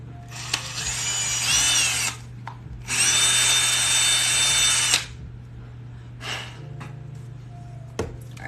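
A power drill bores holes in a hexagon tray in two sustained bursts, each about two seconds of whining, with softer clicks and brief mechanical handling noises between and after.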